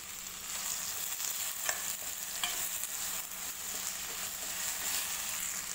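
Two chopped onions frying in a pan for kanda poha, a soft continuous sizzle with a few faint stirring scrapes, steady and fairly quiet, no one speaking.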